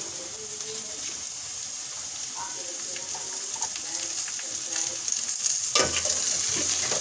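Chopped, peeled tinda added to softened onion in a hot pan, sizzling steadily with soft stirring scrapes, the frying growing louder and surging near the end.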